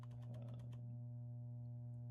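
Quick bursts of computer keyboard typing, a handful of soft clicks in the first second, then a quiet steady hum with no more keystrokes.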